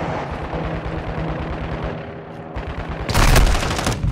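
Gunfire in a Call of Duty match: a rapid stream of shots up close, dropping briefly before a louder, harsher burst of fire near the end, with no voices.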